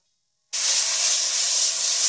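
Chopped scallion and garlic hit hot oil in a wok for a corn noodle dish, bursting into a loud, steady sizzle that starts abruptly after a brief silence and holds close and unbroken, with no one speaking.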